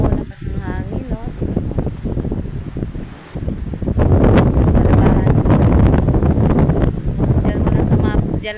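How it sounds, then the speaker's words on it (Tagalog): Strong wind buffets the microphone in heavy, low rumbling gusts that grow louder midway, while a voice talks over it. "Oh, lakas ng hangin oh."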